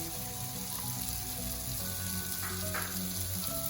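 Butter chicken gravy with garam masala stirred in a pan, a constant soft sizzle and bubbling with faint scraping, no voices.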